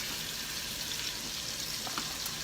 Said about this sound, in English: you really want them to have room to sear